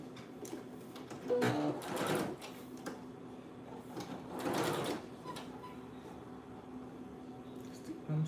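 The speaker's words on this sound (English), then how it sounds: "I'm gonna be stitching this" A sewing machine stitches fabric for homemade clothes, its quiet, steady mechanical whir rising in two louder bursts of faster running, with soft background noise and faint speech.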